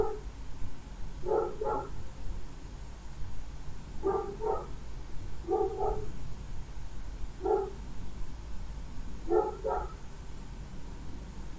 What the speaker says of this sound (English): Okay, that is a very loud bark.